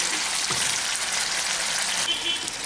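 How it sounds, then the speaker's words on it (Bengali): Mutton curry fries in a pan and gets stirred, giving a continuous close sizzle with soft scraping strokes through it. "এখন আমি এটাকে ভালো করে একটু নেড়ে দিচ্ছি"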